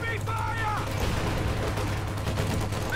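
Gunfire from the World War II strategy game Company of Heroes 2, a continuous rattle of rifle and machine-gun shots at moderate volume, with faint game sounds and little speech.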